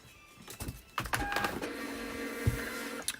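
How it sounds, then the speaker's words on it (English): A printer printing: a mechanical whirring with rising motor whine, clunks of paper feed and a sustained hum, close and moderately loud. "Just waiting for the printer to update now."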